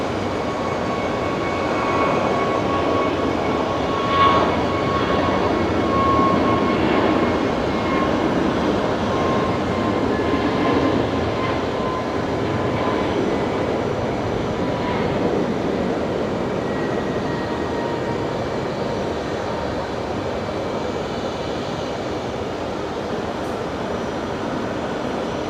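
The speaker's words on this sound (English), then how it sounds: "The Jetstar 321 Neo there heading off as Jetstar 964 to Perth tonight, all the way across the country." A Jetstar Airbus A321neo taking off from Brisbane at night for Perth produces a sustained, fairly loud engine roar with a faint whine over it, steady for the whole stretch.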